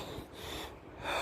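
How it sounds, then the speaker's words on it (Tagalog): Close, heavy breathing from someone worn out while trekking on a rough trail, a few ragged gasps and snorting breaths, fairly quiet. "Hingal."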